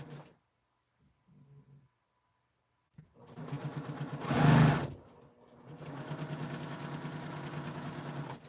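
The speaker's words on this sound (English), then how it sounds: "then I'll sew that on" A sewing machine stitches jelly roll quilt pieces after a quiet start, running close and steady for a few seconds with a louder bump partway through.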